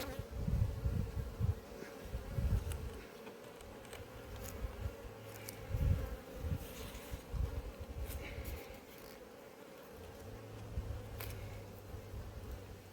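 Honeybees buzz around a hive at an apiary, a dense close swarm hum with individual bees droning near and passing, plus occasional soft handling knocks.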